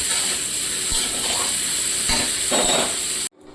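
Pieces of young jackfruit frying in hot oil, a steady loud hiss and sizzle with occasional stirring clicks, cutting off abruptly at the end.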